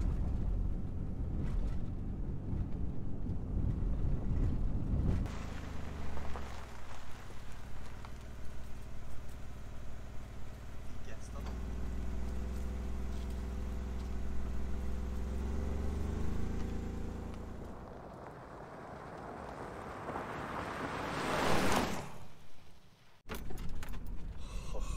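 A van travels along a rough gravel road with large rocks on an isolated route on Quebec's Côte-Nord, giving a steady low rumble of engine and tire crunch throughout, with a brief louder surge and a dip near the end.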